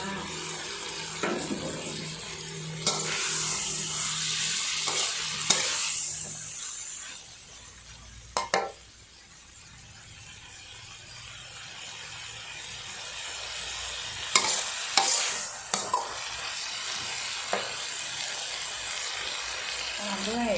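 Pork and okra with holy basil stir-fry in a pan, giving a soft, steady sizzle with occasional louder scraping and splashing bursts, under a voice talking quietly.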